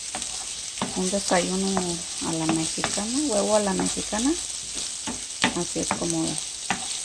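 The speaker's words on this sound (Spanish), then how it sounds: "dorando o friendo jitomate, un chilito serrano, cebolla, cilantro" Tomato, serrano chili, onion and cilantro fry and sizzle in a pan for a Mexican-style egg breakfast, a steady hiss with stirring clatter beneath a voice that talks over most of it.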